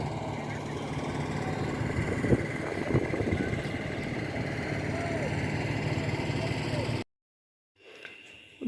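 A boat engine hums steadily at a boat ghat at Kalardoba in Habiganj, with people talking over it, before the sound cuts out near the end.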